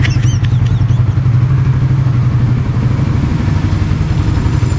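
A Suzuki Raider FI 150 motorcycle engine runs loud and close, with a rapid, even, throaty putter and some mechanical clatter throughout, and no talking.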